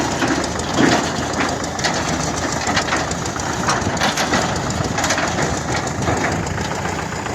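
A Belarus tractor engine runs steadily, a dense, even, unbroken drone that holds at the same level throughout with no voices.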